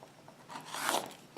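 Quilt fabric pieces for half-square triangles are trimmed with a single soft, close, rasping cutting stroke, quiet and brief with no talking.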